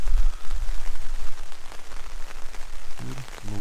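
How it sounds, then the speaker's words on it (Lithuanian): Steady rain falls outdoors at night near a campsite tent, a continuous soft patter with a few louder drops, and a brief low hum or voice-like murmur toward the end. "Ir laukia lyja."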